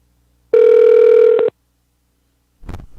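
A single telephone tone sounds for about a second as a call is placed, loud and close, followed by silence and then a short burst of muffled noise.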